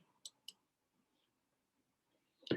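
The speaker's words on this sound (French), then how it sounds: "Je clique sur Fast Money." Two sharp computer mouse clicks in quick succession, close and crisp in an otherwise quiet room, followed after a pause by a louder brief knock or click.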